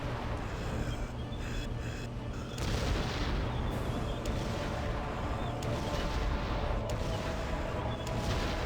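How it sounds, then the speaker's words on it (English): Gunfire in the Conker: Live & Reloaded video game sounds as dense, loud, continuous blasts and booms with sharp repeated cracks and no talk. "If I shoot high enough, it becomes a lob shot"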